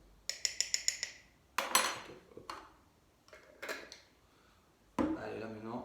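Teaspoons clink sharply against a glass jar as sugar goes into tamarind vanilla rum, with a quick run of small taps, a few louder knocks and a heavier clatter near the end.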